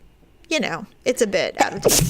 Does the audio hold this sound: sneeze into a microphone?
yes